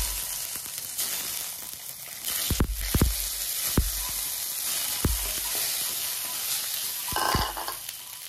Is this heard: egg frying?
yes